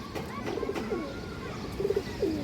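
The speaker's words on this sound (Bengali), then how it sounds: "একদম পিওর খরা গলা নর কৌতা" A pure Khora-neck male pigeon coos close by, with a few soft, throaty rolling phrases spaced across the moment and a faint background hiss.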